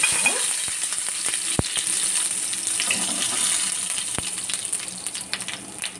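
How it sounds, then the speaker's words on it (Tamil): Fennel seeds spluttering in hot oil, a steady close sizzle scattered with sharp pops and crackles. "சோம்பு வெடிச்ச உடனே தண்ணி"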